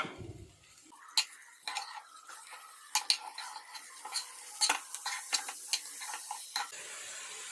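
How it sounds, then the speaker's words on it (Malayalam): Oyster mushrooms stirred in a frying pan, with repeated crisp scrapes and clinks of the spoon against the pan over a faint steady sizzle, close up and irregular in rhythm, without speech. "നന്നായിട്ടൊന്ന് ഇളക്കി കൊടുക്കാം"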